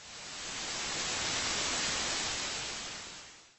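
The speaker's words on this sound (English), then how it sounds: "that's basically stereo hiss fading in and out" Broad stereo hiss swells up gradually, holds steady, then fades away again, with no other sounds.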